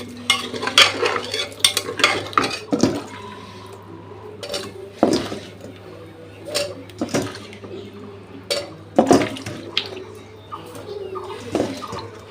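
A spoon stirring potatoes into chicken curry frying in a pot, with sharp scrapes and clinks of metal against the pot at irregular intervals over a faint sizzle, close up.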